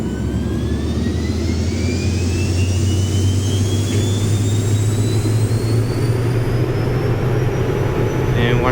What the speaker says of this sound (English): we'll go ahead and release the parking brake. Go and apply throttle.